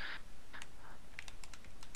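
A computer keyboard clatters in a quick burst of close, crisp typing clicks during a Dark Souls gaming session, with no speech over it.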